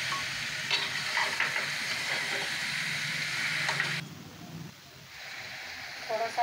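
Jackfruit being stirred through masala in a hot pan, a soft sizzle with scraping and clinks of the spoon, spoken Hindi over most of it before the frying hiss drops back.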